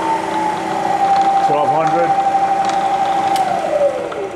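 A Bridgeport Series I 2HP dovetail overarm vertical milling machine runs with a steady, loud motor whine and hum that dips briefly midway and holds on close by.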